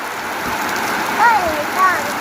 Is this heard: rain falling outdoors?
yes